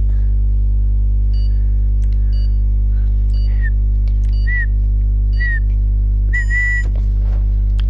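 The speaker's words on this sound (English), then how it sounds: "Sorry guys for the whistling." A person whistles a series of short rising and falling notes, spaced irregularly over a loud steady low hum, with a longer held whistle near the end.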